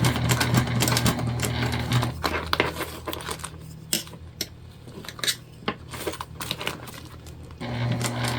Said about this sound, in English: So we're just sewing slightly in